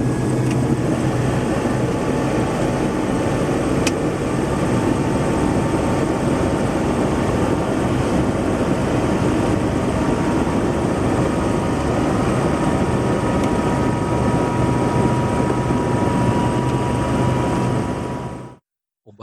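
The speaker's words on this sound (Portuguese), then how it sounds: "O barulho do rotor do helicóptero é muito forte" Constant, loud rotor and engine drone from inside a helicopter in flight, a steady dense roar with a faint high whine that holds unchanged for about eighteen seconds before cutting off abruptly.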